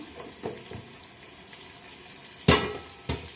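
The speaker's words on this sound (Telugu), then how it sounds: "ఎలా ఆనియన్స్ అయితే ఫ్రై అవుతున్నాయి" Onions sizzle steadily in a pan as chopped green chillies and curry leaves go in, a soft continuous frying hiss broken by a few sharper clatters near the end, close and with no one talking.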